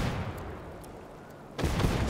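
Muffled Fortnite gunfire, a dense rumbling burst that fades, then another loud volley near the end, with no talking.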